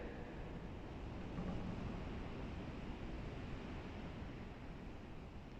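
Strong storm wind roars in Lüderitz as a steady, dense rush without gusting breaks, heard alone and quite faint.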